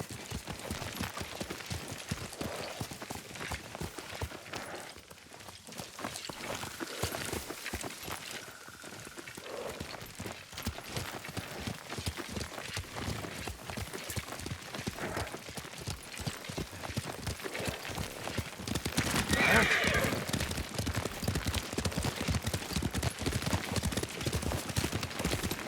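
Horse hooves clip-clopping at a steady gallop while riding through the landscape in Ghost of Tsushima, continuous rhythmic hoofbeats with a brief neigh near the end, moderately close but fairly quiet.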